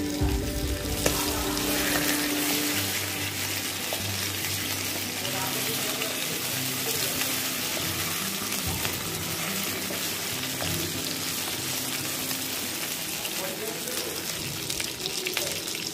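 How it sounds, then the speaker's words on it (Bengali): Hilsa fish pieces fry in mustard oil in a kadai after being turned over, giving a strong, continuous close-up sizzle and crackle with occasional soft stirring and clinking throughout. "মাছের এক সাইড ভাজি হয়ে গেছে, এখন উল্টে দিব।"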